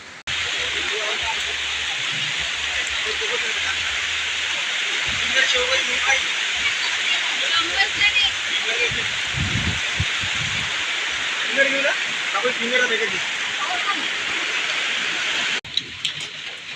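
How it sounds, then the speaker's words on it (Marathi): A small waterfall near Paunar sends babbling water in a constant rushing hiss, with people talking and calling out nearby over the flow. "पाण्याचा झुळझुळ आवाज वगैरे धबधबा आहे छोटा"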